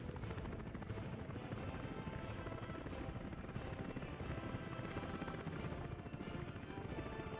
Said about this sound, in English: The more I zoom out, the more helicopters I get in the shot